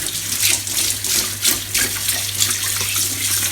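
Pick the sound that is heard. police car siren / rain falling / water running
water running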